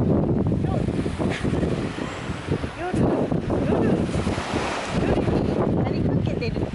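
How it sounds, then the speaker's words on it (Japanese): Ocean waves wash ashore at Zushi beach at night, a continuous surging roar with strong wind buffeting the microphone throughout. "いいですよね、夜の海もね。"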